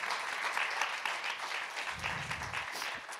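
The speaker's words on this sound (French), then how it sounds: "on peut vous applaudir" An audience applauds steadily at a morning discussion event on disinformation, a dense sustained patter of many hands throughout, with a low rumble of crowd noise joining near the end.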